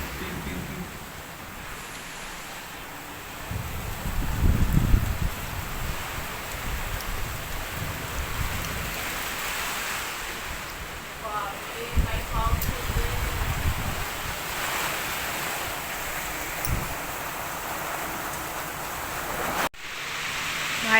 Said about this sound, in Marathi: बाहेर पाऊस पडतोय